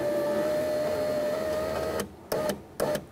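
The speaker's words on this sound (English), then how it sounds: "we're going to start adjusting the window regulator to the fully upright position" Power window motor and regulator on a 1994-1999 Honda Accord door, giving a steady close whine for about two seconds, then two short bursts as the window is nudged into place.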